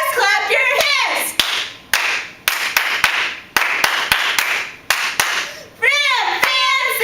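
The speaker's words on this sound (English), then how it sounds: "if you're with us, clap your hands." Fans in the stands clap sharp single claps in a steady rhythm during a cheer at a school sporting event, loud and close, between chanting voices.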